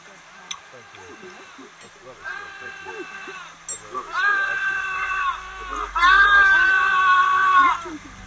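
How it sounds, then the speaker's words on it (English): A voice screams in long, drawn-out wails that rise and break, getting louder toward the end, with clattering and splashing at a tea party held in a flood beneath them. "Screaming represents the anguish of social anxiety when we're trying to contain ourselves and act civilized."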